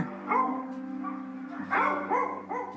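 A few sharp barks and yelps from dogs at an animal shelter nearby, spaced irregularly, with whimpering tones in between.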